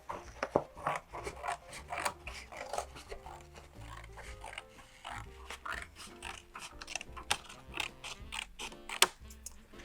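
Scissors cut out a paper gnome pattern at a craft workshop, giving a steady run of short snipping and crinkling clicks close by, with some faint background sound.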